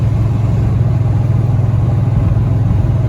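Dodge Ram 1500 pickup with a Magnum V8 stroker engine and homemade exhaust cruising at highway speed, a steady low engine drone and road rumble heard from inside the cab, continuous and fairly loud with no talking.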